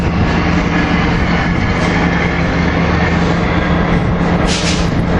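An NJ Transit train rolls through 30th Street station, a steady loud rumble of wheels and heavy engine noise filling the scene with no pause, hissing and roaring continuously throughout.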